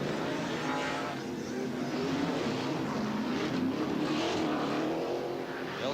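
NASCAR race cars at the 1998 Coca-Cola 600 during pit stops, a dense continuous engine roar with passing whines and revving, steady and loud throughout, a crowd wash underneath.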